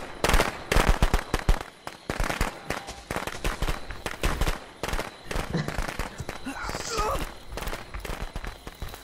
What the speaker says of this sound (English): You threw down fucking firecracker.